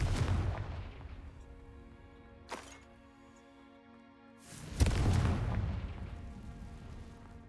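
The Confringo fire spell in a wizarding video game bursts in two heavy, booming explosions a couple of seconds apart. Each blast has a sharp crack, and a low rumble rolls on afterward.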